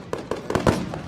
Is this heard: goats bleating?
no